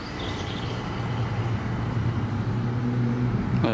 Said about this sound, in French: Ah la DeLorean, normal. Et voilà le bruit qu'il faisait.